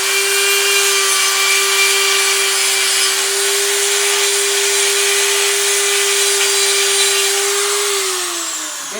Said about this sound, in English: Basically just smoothing up the rough surface on the casting.